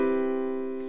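A single sustained major seventh chord rings out evenly, warm and soft, holding steady before slowly fading, with no other sounds around it.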